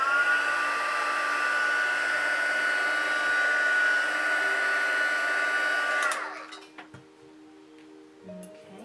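A hair dryer blows hot air steadily to heat set creases in fabric, a loud even whir that runs for several seconds and then switches off, leaving faint clicks and handling noises.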